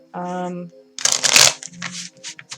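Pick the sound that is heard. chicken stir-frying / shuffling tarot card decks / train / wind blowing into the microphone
shuffling tarot card decks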